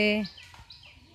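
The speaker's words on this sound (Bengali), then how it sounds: "মোরগ মুরগি ডাকছে" Rooster and hens calling in a village in Habiganj, Bangladesh: a short, loud crow-like call at the start, followed by fainter, scattered clucks and chirps.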